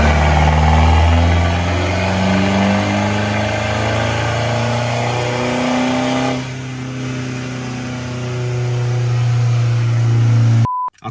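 A Mercedes W203 with a turbocharged M104 engine and straight pipe runs loud and close, a deep droning exhaust with a steady low rumble that briefly eases and then builds again before cutting off abruptly.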